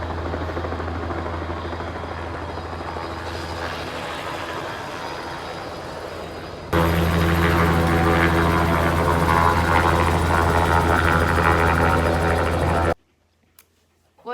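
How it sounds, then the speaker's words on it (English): A helicopter hovers low over a cherry orchard, blowing rainwater off the trees; its steady rotor drone runs loud and continuous, swelling closer halfway through before cutting off abruptly. "the helicopters come and hover over the trees and blow the water off"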